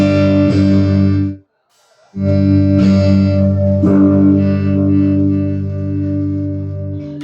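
Electric guitar with both neck and bridge pickups selected, run through distortion: loud sustained chords struck several times, with a short silent break near the start, heard alone and close.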